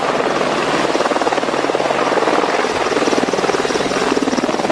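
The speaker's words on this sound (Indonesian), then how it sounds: "Lihat, ada juga helikopter tempur." A combat helicopter in a video game whirs with a steady, loud rotor chop that fills the whole stretch without a break, with no speech over it.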